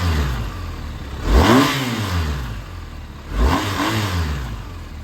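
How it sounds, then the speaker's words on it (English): A 2021 BMW R1250 GS motorcycle engine at idle is blipped twice, each rev rising sharply and falling back to a steady idle, close and fairly loud with no talking. "We'll give it a few revs, you can hear how she sounds."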